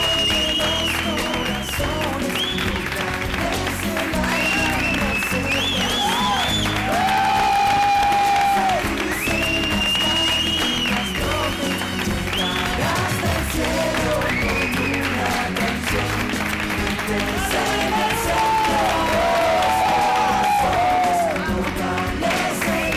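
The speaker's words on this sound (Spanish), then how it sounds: "Vamos a darles a ellos un aplauso tan fuerte como podamos para que lo recuerden." Loud audience applause mixed with cheering and whoops rolls on without a break, with a crowd of voices bellowing through the dense, continuous clapping.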